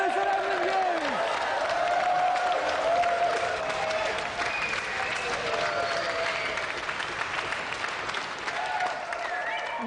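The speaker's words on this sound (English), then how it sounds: "let's have another round of applause for our winner, Sonny Nair, and our gallant loser, Emlyn Hu" A TV game show studio audience claps and applauds steadily throughout, a sustained wash of clapping with faint voices and a few cheers mixed in.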